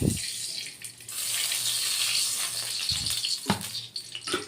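Cooking oil poured into a kadai on the stove, a steady rushing pour with a brief clank at the start and knocks near the end, close and fairly loud, no talking.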